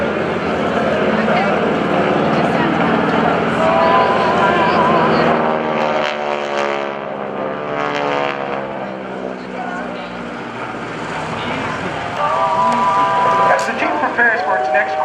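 GEICO Skytypers aerobatic propeller aircraft perform at the 2014 NAS Oceana airshow, a loud continuous engine drone that swells and shifts in pitch as the planes pass, with a commentator talking over it throughout.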